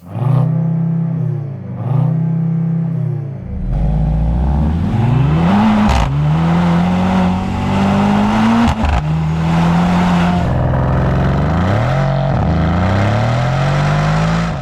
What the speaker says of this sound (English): play the previous generation C63's soundtrack with the twin turbo 4-litre V8